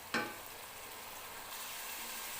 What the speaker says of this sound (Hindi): मसाला जो है हमारा काफ़ी हद तक भून चुका है।